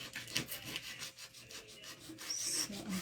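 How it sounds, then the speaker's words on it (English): Sandpaper rubbing back and forth along the edge of an old wooden sign, a steady close scratchy rasp in short repeated strokes with no talking. "I'm just taking the sandpaper to the very edge of the sign"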